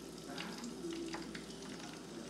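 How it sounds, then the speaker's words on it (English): Shrimp frying in hot oil in a deep-fry basket gives a continuous, fairly quiet crackling sizzle for a couple of seconds, with no voices. "Okay, so our oil is ready, and what I'm going to do is go ahead and drop my shrimp into my basket that I have here."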